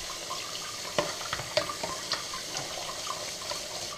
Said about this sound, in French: J'aime bien les mettre dans une passoire et passer un petit peu d'eau dessus pour enlever les dernières petites saletés.